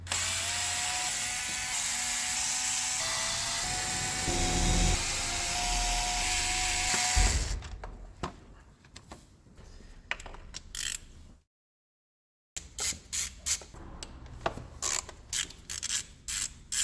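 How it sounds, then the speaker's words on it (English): A ratchet works on the cylinder head cover bolts of a Mini One R56, clicking close by in a rapid run. Steady noise masks the start, then a brief silence falls, and the ratcheting returns in short choppy bursts. "now we remove the bolts holding the cylinder head cover to the cylinder head"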